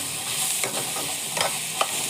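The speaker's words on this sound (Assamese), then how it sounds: "আলুখিনি দি আকৌ ভালদৰে ভাজি লৈছোঁ অলপ টাইমৰ কাৰণে" Potatoes fry in a pan for an Assamese fish curry, a steady close sizzle broken by a few scraping stirs of the spatula, with no voices.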